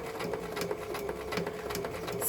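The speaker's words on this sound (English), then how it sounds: "you can see that I'm sewing" A sewing machine stitching a handmade birthday card made from paper scraps: a steady, rapid mechanical whirring hum with a regular stitching pulse, close and fairly quiet.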